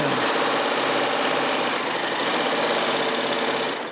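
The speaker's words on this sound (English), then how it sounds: "And then just start sewing." A Baby Lock Triumph serger runs steadily while sewing a 4-thread seam, a dense continuous mechanical whir and rapid stitching rattle, close and loud throughout with no talking.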